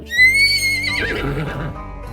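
A horse in an animated Akbar and Birbal children's story gives a single loud, close whinny that trails off, with a faint clip-clop of hooves beneath.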